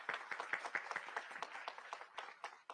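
Applause at an official maritime corridor event, a thin, distant scattering of individual claps in an irregular rhythm, fairly faint and heard alone.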